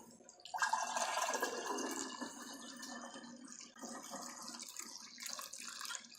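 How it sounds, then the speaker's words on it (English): Goat milk pours and trickles through a permanent coffee strainer, a close liquid splash that starts abruptly, then settles into a softer, uneven stream. "So you just filter the milk."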